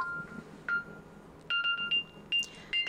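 A Samsung phone sounds its find-my-phone alert, triggered from a Galaxy Watch 4: short, bright electronic tone bursts repeating in a quick irregular pattern, moderately loud against a quiet background.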